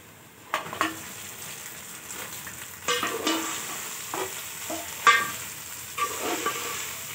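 Onions frying in oil until light brown, a steady soft sizzle with several clattering stirs of a spoon against the pan, no voices.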